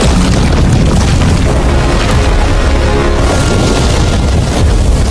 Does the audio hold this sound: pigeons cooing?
no